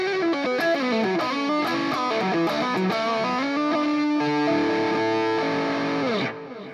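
An electric guitar lead played through a NUX MG-30 with a delay effect: a loud, close melodic line of sustained notes and quick runs with echoing repeats, ending in a fading tail.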